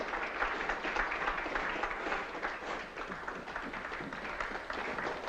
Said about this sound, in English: Does the applause warrant an encore?